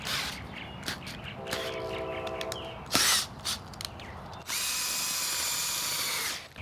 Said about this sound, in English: put it on my really old brushed Milwaukee drill